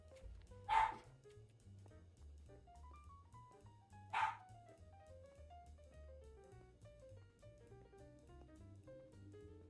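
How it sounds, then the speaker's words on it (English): Two sharp dog barks a few seconds apart, somewhat distant, over soft looping Minecraft background music with no speech. "Sorry about my dogs barking in the background"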